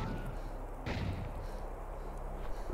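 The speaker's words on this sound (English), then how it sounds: "Gunshots? Maybe Frank hasn't been able to get out either. Yeah, gunshots, that's weird." Gunfire in the video game Decimate Drive: a dull distant shot booms once through a steady, rumbling background drone, with no voices.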